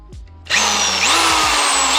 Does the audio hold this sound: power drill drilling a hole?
yes